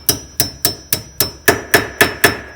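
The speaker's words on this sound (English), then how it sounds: "And then we can finish up with a few taps of the hammer." A hammer taps on a front brake part of a 2009 Cadillac CTS-V, landing ten sharp, evenly spaced metallic strikes at close range, each ringing briefly, with no talking.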